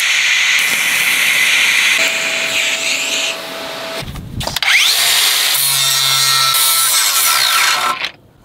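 Power grinder working on a sailboat foresail fitting. The tool grinds loudly and steadily for about four seconds, breaks off briefly, then grinds again with a high hiss until it stops near the end. No one speaks.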